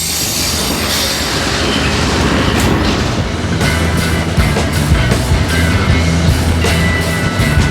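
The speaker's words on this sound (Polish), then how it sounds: "Ten pociąg wjeżdża" Train pulling in on the rails near Ścinawka, with a loud rumbling approach, squealing wheels and rhythmic clickety-clack of the wagons passing close by.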